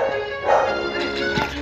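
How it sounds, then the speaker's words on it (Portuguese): A real dog barks and yips in short bursts close to the microphone, sounding behind steady music from a Pokemmo game session. "o cachorro tá latindo"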